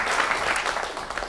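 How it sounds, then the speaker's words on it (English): A concert crowd gives a round of applause for a guitarist at the Hurtwood live show, thick continuous clapping that fades slightly toward the end. "Give him a round of applause."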